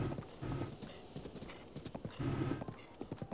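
Horse hoofbeats in The Legend of Zelda: Breath of the Wild, a quick clip-clopping gallop with a brief whinny, heard alone and fairly faint with a rhythmic run of hoof strikes.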